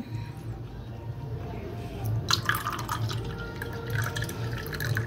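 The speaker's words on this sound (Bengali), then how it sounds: "এই যে আমি কাপে চা ঢেলে নিলাম" Tea is poured into a cup, a soft trickling liquid sound over faint room noise, with a few light drips and clinks toward the end.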